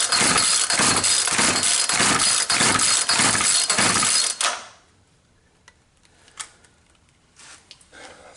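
Several rapid pull-cord yanks on a Poulan 220 chainsaw come one after another, each giving a loud rattling turnover burst, then the engine fails to catch and only faint clicks and handling noises follow.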